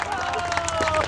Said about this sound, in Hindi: एक बार तालियां बजाएं जनरेटर के सम्मान में